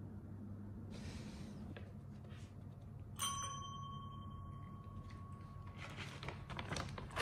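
A single bright ring of a small bell, used while training a cat indoors, sounds once with a short lingering tone over quiet room noise and faint soft clatter.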